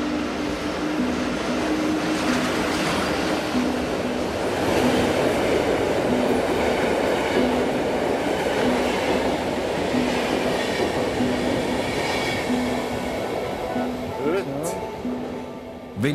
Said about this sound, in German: Das ist ein Schnellzug